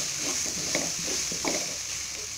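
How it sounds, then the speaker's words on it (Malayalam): Chicken gravy simmers and sizzles in a pan with browned onions while a spoon stirs through it, a faint steady crackle with a few soft scrapes of the utensil. "അതിന്റെ ആ ഗ്രേവി നമുക്ക് ഇതിനകത്തേക്ക് ഒഴിച്ചു കൊടുക്കാം"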